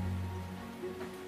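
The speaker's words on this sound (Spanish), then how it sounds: "sigue lloviendo en esta región que tanta falta hace" Steady rain falling on Lake Pátzcuaro in Michoacán after a night of downpour, a soft continuous patter with a low hum beneath, no voices.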